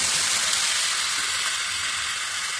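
Mixed vegetables and green chillies frying together in a pan, giving a steady, continuous bright sizzle from start to finish, close and even, with no voices.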